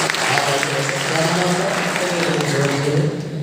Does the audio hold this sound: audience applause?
yes